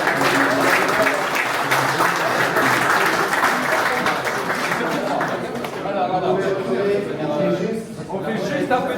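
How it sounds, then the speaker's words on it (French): An audience at an event applauds the participants in sustained, dense clapping that stays steady before easing slightly near the end, with voices mixed in. "On peut tous les applaudir s'il vous plaît."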